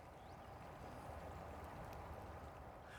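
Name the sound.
water falling at Barton Springs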